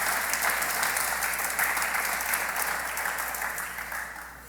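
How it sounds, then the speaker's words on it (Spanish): A congregation at a church service claps together in sustained, dense applause that fills the room, holding steady before gradually fading toward the end. "Dele un aplauso al Señor para espantar un poquito el sueño"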